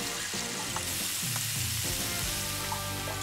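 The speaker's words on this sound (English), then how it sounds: "And these are gonna get fried up? Sauteed" Food sautés in a wok in a Korean BBQ restaurant kitchen, giving a continuous, dense hiss of frying close by, with faint clatter of utensils underneath.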